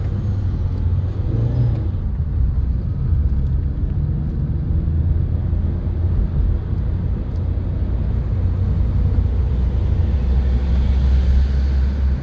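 A car on a driving lesson accelerates to the maximum permitted speed of 60, a steady low engine and road rumble that builds slightly and stays loud and close inside the cabin, with no talk.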